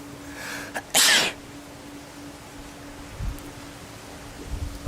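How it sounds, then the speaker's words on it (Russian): A single loud, sharp sneeze bursts out near the mic, triggered by stepping into bright sunlight, followed by a few soft rustles and faint low thumps in a quiet room. "Вот видите, чихаю на солнце."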